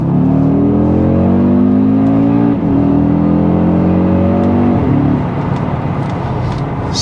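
An Audi RS Q3 Sportback in dynamic drive mode accelerating hard, its loud engine note climbing through two upshifts with brief dips between gears, then building again to a steady roar.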